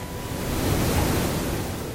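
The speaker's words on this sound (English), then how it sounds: "Just watching the waves crashing against the rocks." Ocean waves crash against rocks in a steady, dense roar of surf that runs loud and unbroken throughout.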